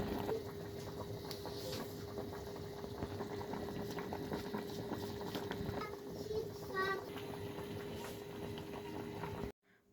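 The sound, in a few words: pot of potatoes boiling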